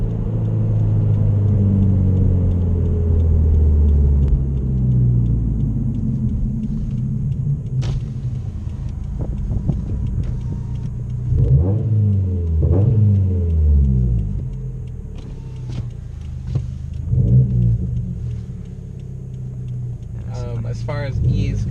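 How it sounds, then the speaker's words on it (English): A 2017 Subaru WRX STI with an external wastegate rumbles while driving, its engine note rising and falling under someone talking through most of the stretch. "it's ironic because I have an external wastegate. Sounds really nice."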